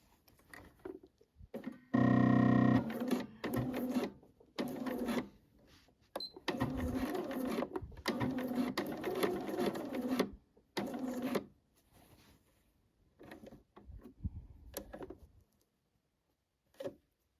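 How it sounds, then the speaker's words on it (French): A sewing machine stitches a seam on a pair of trousers in several bursts of rapid, close mechanical whirring, with short pauses between runs and a brief reverse run to reinforce the stitching. "Et je vous conseille de faire une marche arrière pour renforcer votre couture."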